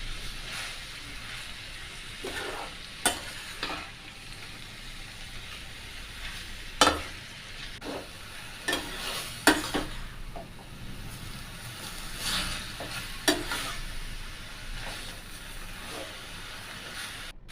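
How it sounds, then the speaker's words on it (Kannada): Grated carrots frying in ghee for carrot halwa, a soft continuous sizzle with scattered stirring clicks and scrapes against the pan, close but fairly quiet, no voices. "ನೀನು ಚೆನ್ನಾಗಿ ಇದನ್ನು ತುಪ್ಪದಲ್ಲಿ ಹುರ್ಕೊತಾ ಇದ್ದೀನಿ"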